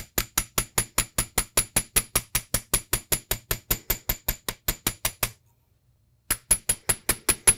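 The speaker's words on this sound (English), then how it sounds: "So I'm just gonna continue my hammering." Rapid, evenly spaced hammer blows on metal for gemstone earrings, loud and close with a sharp ringing strike, pausing briefly before resuming at the same steady pace.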